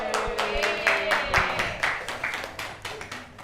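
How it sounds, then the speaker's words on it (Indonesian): Audience at a live comedy show clapping in an uneven, moderately close patter, with a voice and some background sounds running underneath. "mari kita sambut dan beri tepuk tangan untuk Andovi Dalope."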